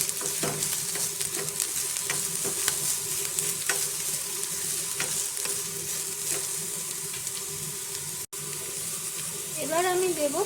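Chopped capsicum frying in a pan and being stirred, a dense, steady sizzle with repeated scraping strokes at close range, a brief break near the end, and then a short voice-like warble.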